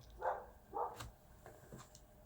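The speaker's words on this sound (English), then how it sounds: "Goddamn dogs." Dogs barking nearby, a few separate sharp barks in a quick irregular run over a faint background.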